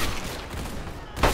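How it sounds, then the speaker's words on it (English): Shotgun blasts in the game Centaura, a dense, rough burst of firing that runs throughout and ends in a sharper, louder report, with no talking. "Oh, shotgun."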